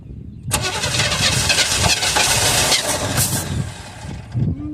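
A 1978 Chevy Custom Deluxe engine cranks briefly, then catches and roars up loudly to a rough, revving run close by before settling slightly.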